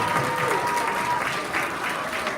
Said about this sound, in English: So give Miss Scallon a round of applause so loud so you can hear this wherever